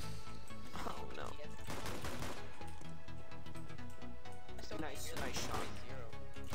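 Rapid gunfire from Counter-Strike: Global Offensive gameplay, bursts of sharp repeated shots running through most of the stretch, loud and dense, with players talking excitedly over them.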